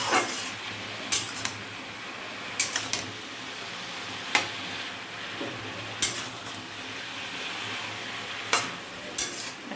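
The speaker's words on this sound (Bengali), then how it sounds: "ভালো করে নেড়ে চেড়ে পেঁয়াজটা মিশিয়ে দেবো।" Onion and ridge gourd sizzle in a pan as a utensil stirs them, with steady frying hiss broken by occasional sharp clinks and scrapes against the metal, near and without speech.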